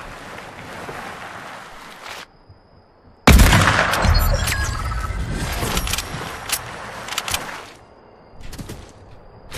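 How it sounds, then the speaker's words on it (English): Gunfire in the video game Fortnite, a sudden loud burst of rapid shots and impacts breaking in after a quieter stretch of ambient game sound, then a brief crack near the end. "Shots."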